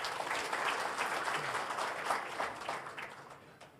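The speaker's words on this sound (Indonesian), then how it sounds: "Tepuk tangan untuk semuanya." An audience applauds at the opening of a technical work meeting of the land survey and mapping directorate, soft, steady clapping from a crowd, fairly distant and fading toward the end.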